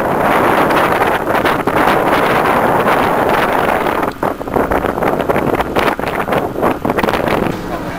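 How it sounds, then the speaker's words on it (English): Strong wind buffeting the microphone during a flood in High Lorton, a steady loud roar with gusty rustling that drops briefly partway through, with no voice over it. "it was windy as well"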